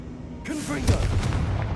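A Confringo blasting spell explodes in Hogwarts Legacy, a sudden loud burst that flares and rumbles briefly over game noise, with a voice speaking around it.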